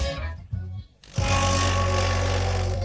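A pneumatic impact tool works a stuck bolt on an abandoned Lamborghini in a basement parking garage: a few short bursts, then a loud, steady, close-up hammering whir that runs on without pause.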